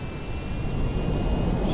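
Steady jet engine hum of an aircraft in the flight game VTOL VR with the throttle pulled all the way back, a continuous broadband roar with faint high tonal whines, no talk.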